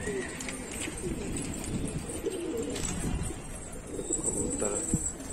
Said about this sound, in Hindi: कबूतर मस्ती में है।